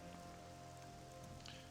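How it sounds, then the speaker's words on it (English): Steady rain pattering down in the video game Morrowind, a constant faint hiss of falling drops with no voices over it. "it's raining"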